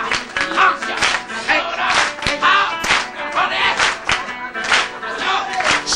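A Japanese New Year variety-show audience claps in rhythm to the festive folk song Hanagasa Ondo, steady loud hand-claps on the beat filling the hall alongside crowd noise and shouts.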